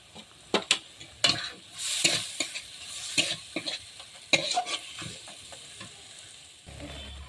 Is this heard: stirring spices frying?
yes